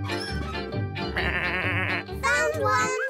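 A cartoon sheep bleats several times in a row, loud and close, with wavering vibrato in each call and a childlike cartoon voice mixed in.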